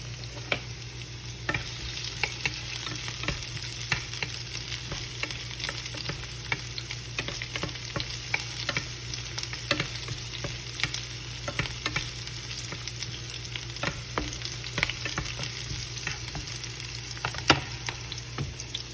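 Onion for pork adobo frying in a pan over medium heat and being stirred, a steady close sizzle with scattered scraping clicks of the utensil throughout, no talking.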